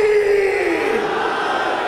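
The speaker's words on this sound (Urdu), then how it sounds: "چلو ایک نعرہ دیں گے آج، مردانی نعرہ" A crowd at a religious gathering shouts a slogan in unison: a loud, sustained collective roar that slowly tails off.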